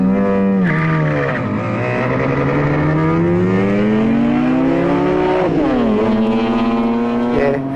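A Mazda RX-3 rotary drag car launches hard, its loud buzzing engine note climbing steadily through the revs, dipping briefly at a gear change near the six-second mark, then rising again, close and continuous with no talk.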